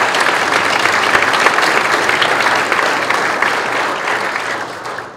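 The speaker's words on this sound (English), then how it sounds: "clap, we can applaud that," An audience at a Chamber of Commerce awards event applauds, giving loud, dense, sustained clapping that gradually thins and fades toward the end.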